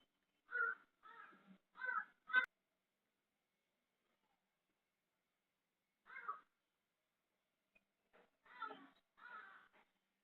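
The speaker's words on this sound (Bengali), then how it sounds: "এত কাক ডাকছে কেন?" Crows caw in a quiet outdoor setting: one bird gives a burst of four quick harsh calls, then after a pause single caws and a final pair come in, moderately near with silence between.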